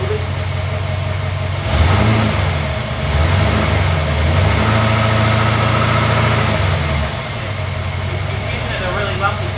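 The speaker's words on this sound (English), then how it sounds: "It's idling really bad. It's idling very bad. The whole car's going." A Ford AU XR8 V8 engine idles roughly with a lumpy, uneven low rumble, briefly revving up mid-clip before settling back, while people talk nearby.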